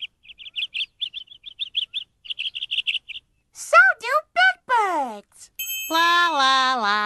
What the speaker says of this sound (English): Little birds make music.